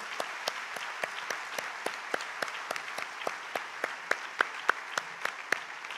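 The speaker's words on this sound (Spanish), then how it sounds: "Aplauso para ustedes." Scattered applause from a university graduation audience, a modest number of hands clapping unevenly at moderate distance, with individual claps standing out near the end.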